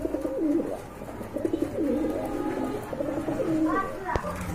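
Pigeons coo in repeated soft, throaty rolls from nearby birds kept for sale, with a person talking alongside and a brief sharp knock near the end.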